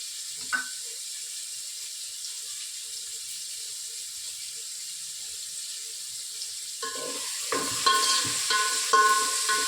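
Onions frying in a pan for soybean biryani, a faint steady sizzle near the cook, followed later by louder clinks, scraping and stirring in the pan.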